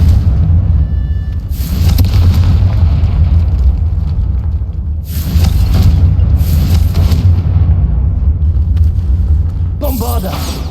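Confringo blasting-spell explosions in Hogwarts Legacy, heard as several loud booming bursts over a constant heavy rumble of game sound, spaced a few seconds apart.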